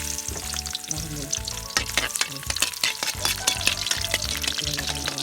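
Garlic frying in a pan, a steady loud sizzle with crackling bursts and occasional stirring clatter, heard alone without talk.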